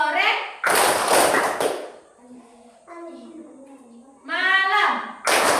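Children in a classroom clap in loud, dense bursts, one long burst early and shorter ones near the end, alternating with quieter stretches where they chant and talk.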